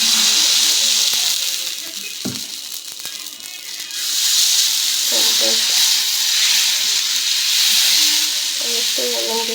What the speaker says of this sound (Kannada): ಎಣ್ಣೆ ಹಾಕೊಳ್ಳೋಣ ಹೆಂಚಿಗೆ.